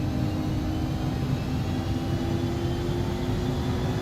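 Jet engines of an XCrafts ERJ145 at takeoff power in X-Plane 11, a steady, loud, continuous roar with a low rumble and faint whining tones, holding an even level throughout.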